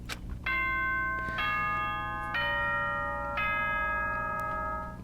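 The school announcement chime from the video game Danganronpa: Trigger Happy Havoc rings as four descending bell-like tones, clear and evenly spaced, over a low background hum.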